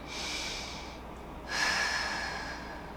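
A person breathes in and out through the mouth during a yoga ball routine: one long, airy breath, a brief pause, then a second, louder breath, close to the mic with no speech.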